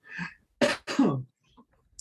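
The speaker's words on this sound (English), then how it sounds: "I'm just going to cough for a second" A short fit of coughing, two or three throaty coughs close together, near and fairly loud, followed by quiet.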